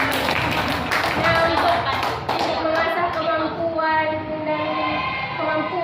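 Applause for the observers at a school session: a burst of clapping fills the first half and thins out as a voice speaks over it.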